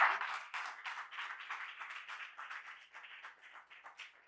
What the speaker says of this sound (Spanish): Denle un aplauso fuerte al Padre.